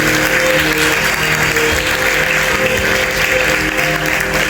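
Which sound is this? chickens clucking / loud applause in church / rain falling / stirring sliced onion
loud applause in church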